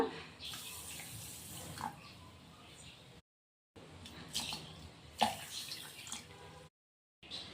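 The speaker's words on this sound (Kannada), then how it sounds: "ಹಾಕಿರೋ ಕಪ್ಪಲ್ಲೇ 2 ಕಪ್ ನೀರು ಹಾಕ್ಕೊಳ್ಳೋಣ." Two cups of water are poured into a saucepan already holding a cup of sugar, making a steady splashing stream in a home kitchen, broken by two brief silent gaps.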